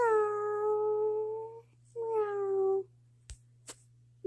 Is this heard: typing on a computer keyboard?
no